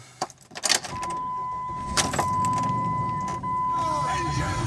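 A 1999 Jeep Grand Cherokee Limited 4x4 engine cranks briefly and catches, then settles into a steady idle with a thin chime tone running over it, close by inside the cabin.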